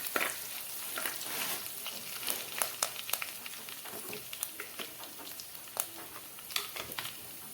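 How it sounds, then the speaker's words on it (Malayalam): Curry leaves crackling in a pan for Kerala fish curry, a soft steady sizzle broken by sharp pops and spatters and occasional stirring, fairly quiet and with no voices. "ഇത്രയും കറിവേപ്പിലയും കൂടെ ഇട്ടിട്ട് നന്നായിട്ട് ഇളക്കി കൊടുക്കാം"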